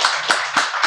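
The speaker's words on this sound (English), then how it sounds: "please give him a round of applause" A few distinct hand claps from a small audience at a Drinks and Mics session, with a handful of sharp separate strikes standing out.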